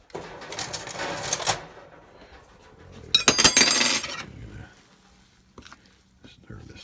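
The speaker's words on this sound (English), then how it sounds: "Stir this up." Dough of coconut flour and sugar being stirred in a bowl, two bursts of scraping, clattering mixing about a second and a half long each, close and fairly loud, with quiet gaps and a few light knocks.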